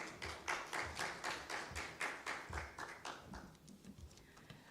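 A conference audience at an infrastructure summit hall gives a round of applause welcoming a session chair, rendered as faint, rhythmic, fairly sparse claps that fade out toward the end.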